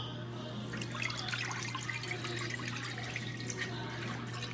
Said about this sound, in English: So here's the epic bone broth. I pour in like this.